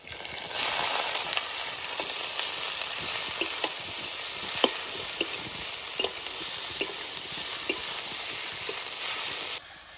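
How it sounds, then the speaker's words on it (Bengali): Potato leaves fry with garlic and chilli in a pan over a village cooking fire, giving a close, continuous sizzle broken by light scraping and stirring taps. "রসুনের লঙ্কা ভালো করে ভেজে নিয়েছি এবার আলু পাতা দিয়ে দেবো"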